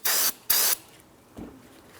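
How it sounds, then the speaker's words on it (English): Two short, sharp bursts of parts cleaner spray onto a rag hiss in quick succession, close by, followed by a soft thud, during front brake work on a 2004-2008 Pontiac Grand Prix. "I'm just going to spray some parts cleaner directly on a rag."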